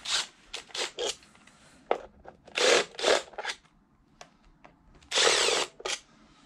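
A power tool drives out the cover bolts on a Ducati 999S motorcycle during a cambelt job, in repeated short whirring bursts of varied length with brief pauses between them, close up and loud.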